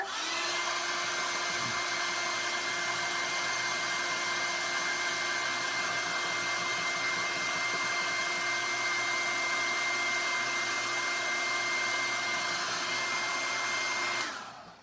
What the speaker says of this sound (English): I'm going to take the hair dryer.